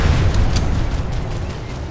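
A tank cannon fires in the video game Planetside 2, a heavy booming blast that rolls off into a low, rumbling decay, fairly loud and close.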